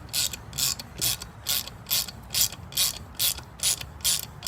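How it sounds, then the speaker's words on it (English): A hand ratchet clicking while it tightens down on a part of a Honda B16A3 engine during a Del Sol valve train job, about ten evenly timed, crisp bursts of pawl clicks, close and alone. "now all you would do take your ratchet and go ahead and clamp down on it and just continue to go down."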